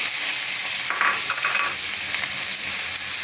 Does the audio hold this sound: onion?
yes